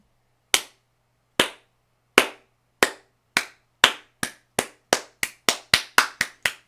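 A single person claps hands alone at a quiet indoor spot, starting slow with spaced sharp claps and speeding up into a quicker run of about fourteen claps.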